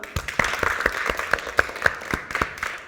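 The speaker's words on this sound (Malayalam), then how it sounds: "നമുക്ക് ഒരിക്കൽ കൂടെ നല്ലൊരു ക്ലാപ്പ് കൊടുക്കാം" A round of applause from children, a scattering of sharp claps that come unevenly rather than as a dense roar, at moderate loudness with no talking.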